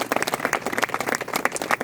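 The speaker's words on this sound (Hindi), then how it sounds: "हमारे अपलाइन के लिए एक बार ताली बजा दीजिए" An audience at an RCM business meeting claps together, steady dense applause throughout, close and fairly loud with no talking over it.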